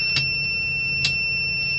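Warning alarm on a SANY 8200 crane with the boom lowered in override: two short sharp beeps about a second apart over a steady high electronic tone and low machinery hum.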